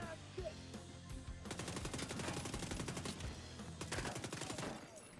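Rapid automatic rifle fire with a 54-round magazine in The Division 2 video game, a sustained burst of sharp repeated shots, briefly pausing and then resuming, loud and close.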